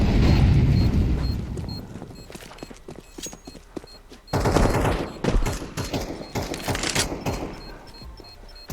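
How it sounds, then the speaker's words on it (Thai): Grenade blast and bursts of gunfire in Counter-Strike 2, loud and dense: a heavy low rumble opening, then sharp rapid shots crackling through the rest, with a second burst of firing partway through. "ระเบิดแล้วเนี่ย"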